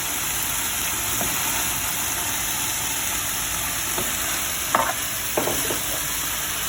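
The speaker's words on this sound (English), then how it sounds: "it's just going to saute together for a couple of minutes" Cabbage and sauerkraut sauté in olive oil, making a steady, close sizzle and crackle. A few soft clinks and stirring scrapes come through near the end.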